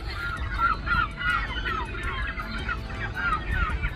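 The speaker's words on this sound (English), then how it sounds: "look at all these birds that have come down to find little pickings in the mud" A large flock of birds on a tidal mudflat on the Scottish coast honks and calls continuously, many overlapping voices rising and falling, like geese gathered together nearby.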